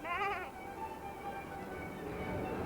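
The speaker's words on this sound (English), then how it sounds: "he heard the bleating of the sheep and the lowing of the oxen" Sheep bleat in a wavering, harmonic burst near the start, with a steady farmyard murmur continuing underneath.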